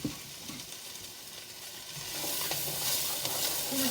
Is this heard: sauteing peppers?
yes